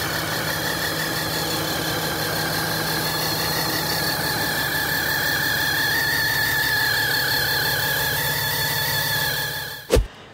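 A truck engine with an exhaust leak idles steadily and loudly at close range, holding a constant rumble for about ten seconds before a brief sharp knock near the end.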